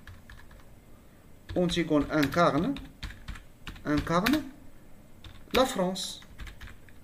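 Keyboard typing clicks in a quiet room, soft irregular taps running under a man's French-speaking voice.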